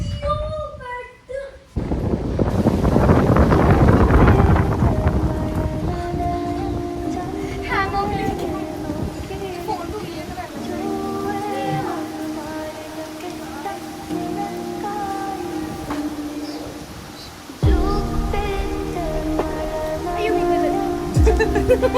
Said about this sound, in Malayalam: പിന്നെ മഴയും കാറ്റും ഒക്കെ